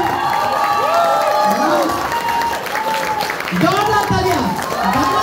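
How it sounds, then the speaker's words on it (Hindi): Loud audience applause and cheering from a large crowd at a welcome ceremony, sustained and dense with a host's voice and music-like tones running over the clapping throughout. "जोरदार तालियां,"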